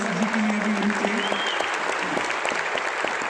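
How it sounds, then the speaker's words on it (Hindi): An audience at a seminar bursts into loud, steady applause, a dense clatter of many hands filling the room throughout, with a voice briefly audible beneath it at the start. "एक बार जोरदार तालियां लोकेश जी के लिए भी होनी चाहिए"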